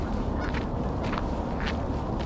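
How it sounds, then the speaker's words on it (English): Geese at Carburn Park give a few short honking calls at moderate distance, spaced irregularly over a steady outdoor background hiss with no talking. "Man, so many geese."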